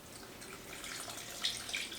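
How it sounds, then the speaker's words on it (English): Filtered water poured into jars of apple peels and scraps, a soft, continuous trickling and splashing that grows slightly louder toward the end, heard close up with no talking. "Our next step is to fill these up with water."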